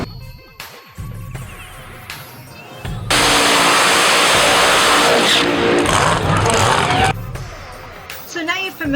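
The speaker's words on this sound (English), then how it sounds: "you're going to see my favorite part of the run, which is, of course, a big Smoky Burnout" A Pro Mod drag racing car's engine roars at full revs for several seconds, loud and close, after quieter idling and mechanical sounds; a voice is briefly heard at the start.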